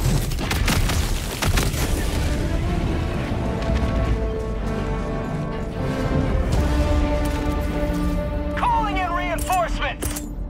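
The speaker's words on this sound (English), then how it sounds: "Please don't tell me you set that bomb off." A bomb goes off in the video game Helldivers 2 with a loud booming blast and crackling rumble, then dense game noise, sustained tones and chirping effects continue.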